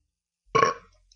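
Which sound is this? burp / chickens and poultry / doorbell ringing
burp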